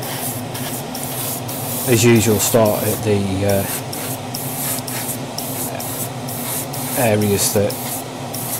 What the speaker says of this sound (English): I've got it loaded in the airbrush, so check my spray